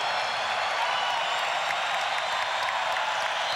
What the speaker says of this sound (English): Crowd trying to get the Lakers going here.